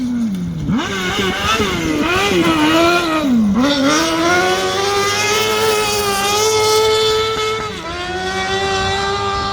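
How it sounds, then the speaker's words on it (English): A small Crosskart engine screams up a hill climb, loud and close, revving hard with rising and falling pitch as it changes gear, running continuously without talk. "this weekend it's the little Crosskart, and he's giving it a hard time up the hill."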